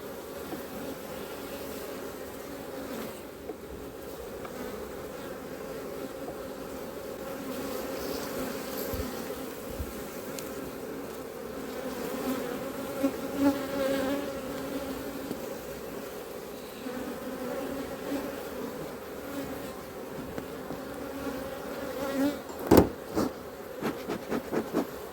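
Honey bees hum and buzz steadily in an open beehive during hive work, a dense close drone with individual insects flitting past, joined near the end by a few sharp knocks and clatters of handling.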